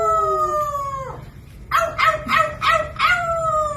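A parrot imitates a dog, giving a drawn-out tonal howl that slides downward, then a short pause and a run of four rising yelping howl notes, close and clear with no talk over it.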